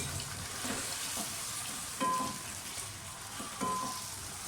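Chicken sizzles as it fries in a pot for palak gosht, a continuous crackling hiss with a couple of brief louder bursts and light stirring knocks.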